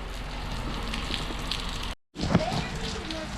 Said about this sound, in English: Get out of the rain, homie.